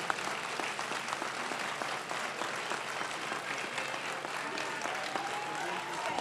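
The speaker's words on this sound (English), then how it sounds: "I'd like to give a round of applause to our adjunct faculty" Steady, loud applause fills a nursing pinning ceremony as adjunct faculty are honored, a continuous crowd of clapping hands with some voices mixed in underneath.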